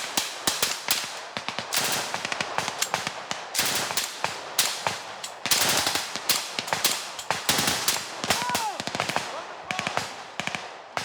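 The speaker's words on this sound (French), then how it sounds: "Après quelques minutes de tir nourri" Sustained gunfire from French legionnaires in the jungle, dense bursts of rapid shots cracking close and loud, nearly continuous with brief gaps throughout.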